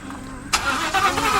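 A Mustang engine turns over and catches after a quiet start, settling into a steady idle with a slightly rough rumble, fairly close and continuous.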